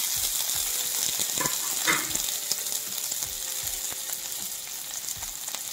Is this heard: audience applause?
no